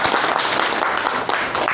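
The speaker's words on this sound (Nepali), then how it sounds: "उहाँको लागि एकपटक जोरदार ताली बजाइदिनु होला" An audience gives a host a round of applause at a business training session, with steady, dense clapping throughout the short stretch.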